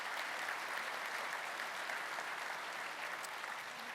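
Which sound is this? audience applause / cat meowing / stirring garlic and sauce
audience applause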